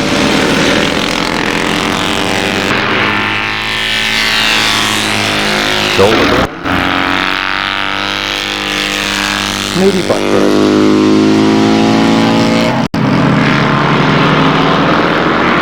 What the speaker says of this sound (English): Quite a trick to race sidecars.